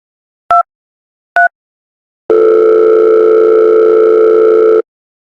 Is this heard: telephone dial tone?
yes